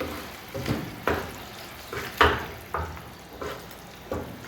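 Soft sizzling in a pan as tofu is stirred into sauce, with periodic scraping strokes of a utensil, about seven or eight moves spaced around half a second apart.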